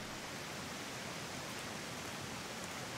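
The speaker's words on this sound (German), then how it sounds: "Das ist ein richtiger Wasserfall" Steady roaring rush of a large waterfall in the jungle survival game Green Hell, a broad continuous wash of falling water that holds even and fairly loud throughout with no voices.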